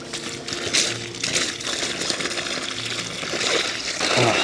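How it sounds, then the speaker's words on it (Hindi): Borewell water gushing and splashing continuously, loud and close, a dense wash of spray and trickling that runs unbroken throughout. "ये पानी बोरवेल का है"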